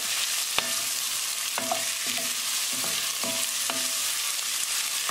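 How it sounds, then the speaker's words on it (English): Onion with garlic frying in a pan and stirred: a steady sizzle runs underneath while several sharp utensil clinks against the pan ring out at irregular intervals, close and clear, with no speech. "Now we're going to add onion. Mix it well."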